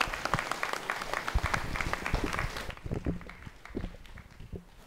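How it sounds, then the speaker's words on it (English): Audience applause for two debate teams at a school debate competition, a steady dense burst of clapping that thins out into scattered claps and stage footsteps. "Round of applause to the two teams, please."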